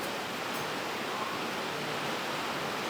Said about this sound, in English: It's actively pouring buckets of rain here at TCB.